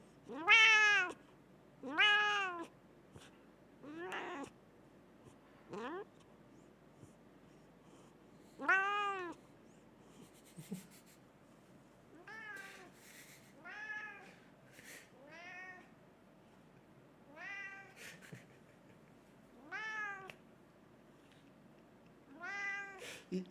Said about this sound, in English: He's such a weird cat.